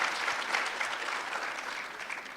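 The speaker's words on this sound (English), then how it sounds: "Can we give him a round of applause" Audience at a national ICT summit clapping in a short, steady burst of applause, moderately distant, with no speech over it.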